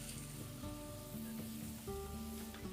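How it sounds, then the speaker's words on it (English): A teaspoon of garlic frying in a hot cast iron pan: a soft, steady sizzle running throughout, with faint tonal hum and clinks in the background and no voices. "it's cast iron, so it will continue frying"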